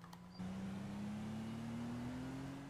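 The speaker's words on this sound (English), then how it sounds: "I'm driving a Lincoln." A Lincoln car drives in the GTA 5 video game, its engine kicking in abruptly and holding a steady, slowly rising hum with no one speaking.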